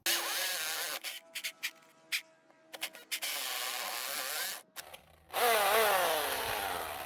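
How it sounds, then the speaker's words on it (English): A dying power drill bores anchor holes into a concrete slab for a shop sill plate. The motor whines in uneven bursts, starting and stopping, then strains with a wavering pitch near the end. "I think my drill might be dying right now."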